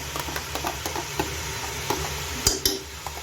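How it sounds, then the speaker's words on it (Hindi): Garlic, ginger and green chili paste frying in ghee for mutton karahi, a soft steady sizzle with light ticking spoon taps and a couple of sharper clinks against the pot. "इनको जो है अब हम घी में 5 मिनट के लिए भूनेंगे"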